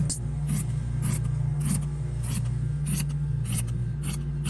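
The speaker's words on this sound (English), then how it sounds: "I'm going to fold it in half, going to cut this out." Scissors cutting through folded fabric lining for a simple sewn wallet, a steady series of close, crisp snips and rasping strokes at an even rhythm, with no voices over it.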